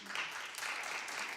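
A studio audience breaks into applause at a celebrity talk show, a dense, steady patter of clapping filling the short moment at moderate volume.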